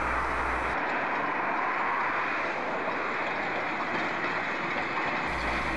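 A Hokuriku Railway Ishikawa Line electric train with nose-suspended traction motors runs past, a loud continuous roar and motor drone filling the whole stretch with steady intensity.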